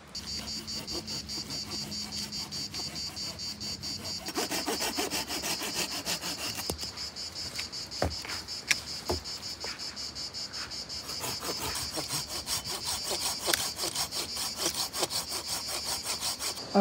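Wood being sawn by hand with a Silky Pocket Boy 170 mm folding saw, steady rasping strokes in a regular rhythm with a chirping insect-like background throughout, close and moderately loud, no talking.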